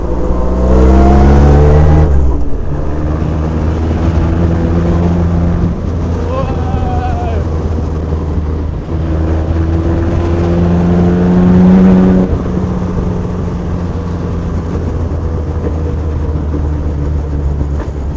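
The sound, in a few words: Bentley car engine revving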